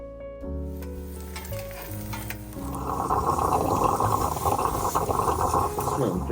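Butter in a pan on a camp stove at a mountain hut, first a low humming tone, then building into a steady, close frying sizzle that continues to the end.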